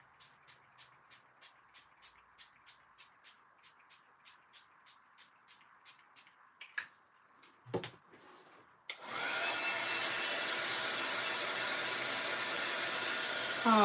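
Heat gun switched on for heat-embossing a handmade card with pink embossing, a steady loud blowing roar after a run of soft rhythmic clicks and a brief clatter.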